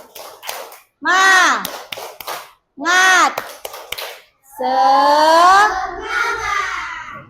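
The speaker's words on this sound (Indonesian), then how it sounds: "Ayo, tepuk semangat" A group of children in an Indonesian classroom performs the rhythmic 'tepuk semangat' spirit clap, sharp hand claps falling in a patterned beat between loud sung chant phrases from young voices.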